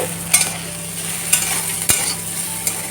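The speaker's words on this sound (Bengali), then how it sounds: "আলু আর কারকুলটাকে ভাজা করছি" Potatoes and bitter gourd fry in a wok with a steady close sizzle, broken by several sharp stirring scrapes of the spatula.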